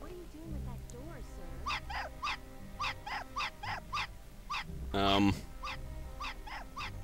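A dog in the video game Hitman Blood Money lets out a string of sharp, repeated barks with whimpering yelps mixed in, fairly close and loud over steady game background noise.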